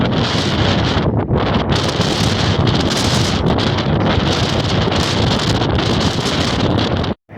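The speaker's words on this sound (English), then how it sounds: "The strongest wind I've skated yet." Strong wind buffets the microphone while rollerblading across open country in Utah, a loud, continuous roar with gusty swells that drops out abruptly near the end.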